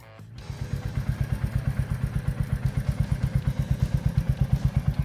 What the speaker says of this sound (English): The Royal Enfield Hunter 350.